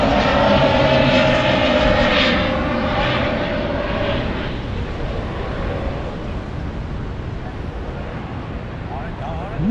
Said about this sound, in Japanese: なんか飛行機飛んでますね